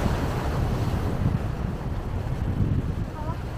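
Strong wind and rolling sea surf at the end of a beach road near Ratnagiri on the Konkan coast, a continuous loud roar with gusty microphone buffeting.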